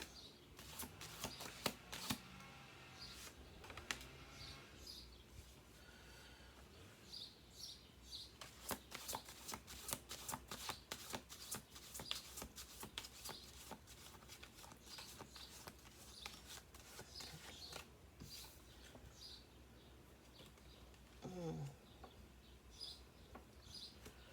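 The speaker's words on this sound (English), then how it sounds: "I need to do one more shuffle after this." Tarot cards being shuffled up close, rapid riffling bursts and papery flutters repeating in waves, with brief pauses and a faint chirp near the end.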